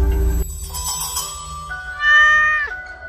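A cat in the horror video game Sakura Simulator lets out a loud, drawn-out meow that rises and trails off, alone and close up after a brief low rumble.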